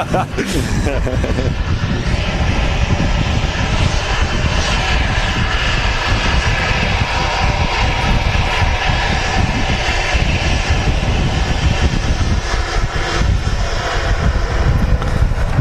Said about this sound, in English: this is actually the aircraft